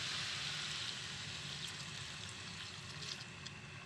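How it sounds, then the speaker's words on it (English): Water splashes and gurgles steadily as it is poured into a pot for a smoked fish recipe, a soft, fairly quiet stream heard alone. "So you can add a half cup of water"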